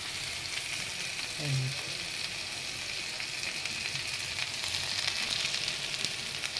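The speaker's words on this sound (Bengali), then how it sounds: "চলো এবারে একটু ভেজে নেব আলুর তরকারিটা" Potato curry fries steadily in a pan with a constant soft sizzle and hiss. A faint brief clink or stir lands near the start.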